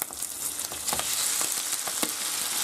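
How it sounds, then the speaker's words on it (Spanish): Cooked spaghetti and bacon stirred together in a hot frying pan for carbonara, with steady close sizzling and frying crackle, scraping stir sounds and soft clinks throughout, no talking. "Y lo removemos bien, que se mezcle todo."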